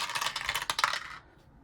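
Dice clatter and roll across a hard surface in a tabletop game, a brief rattling burst of clicks up close that settles and stops after about a second.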